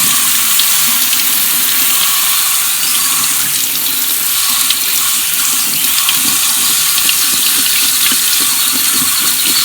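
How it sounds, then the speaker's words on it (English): Cool tap water pours steadily over food in a sink to rinse off starch, a loud, close, continuous hiss and splash with no talking. "Just rinsing it off with some regular cool water to remove the excess starch."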